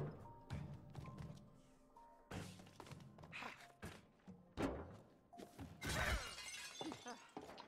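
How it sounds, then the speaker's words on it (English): Glass shattering in the co-op video game It Takes Two, with several sharp breaking crashes and heavy thuds scattered through the clip, the loudest burst near the end, over a low game backdrop. "Okay, so the glass you can break."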